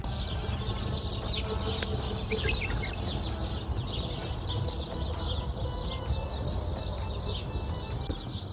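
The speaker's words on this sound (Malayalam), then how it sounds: "എങ്ങും നിശബ്ദത, ചുറ്റും കിളികളുടെ സൗണ്ടുകൾ മാത്രം കേട്ടോക്കി" Birds chirp and tweet in many overlapping calls throughout a quiet park inside a forest, among date palms, a steady outdoor chorus with no voices.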